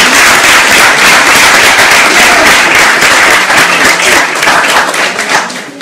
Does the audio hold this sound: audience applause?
yes